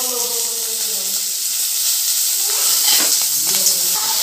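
Oil sizzles and hisses steadily in a pan while peas fry for matar fry, a continuous close crackling wash with faint stirring scrapes near the end.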